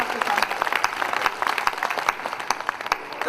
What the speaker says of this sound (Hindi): तो टाइम बचाइए, जोरदार ताली बजाइए।